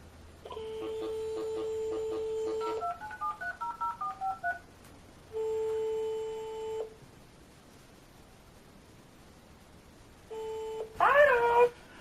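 A telephone line gives a dial tone, then a quick run of DTMF keypad tones as a number is dialed, followed by long ringback tones and a brief voice when the call connects.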